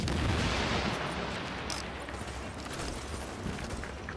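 Grenades and seeker mines explode in The Division during a firefight in the Lexington Event Center, a loud booming blast at the start followed by rumbling, scattered bursts and pops fading into background noise.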